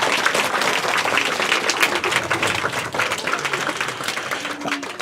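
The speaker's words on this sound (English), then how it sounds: "can we give all the young people who've come and spoken and told us about the experience a round of applause" An audience at a scout gathering applauds young speakers with a steady, close wash of clapping that runs without a break, lightly textured by individual sharp claps.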